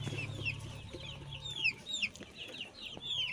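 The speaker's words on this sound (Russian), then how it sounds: "Сидят курехи." Hens clucking softly in a coop, with a string of short, faint clucks and murmurs repeating close by at an uneven pace over a quiet, low background.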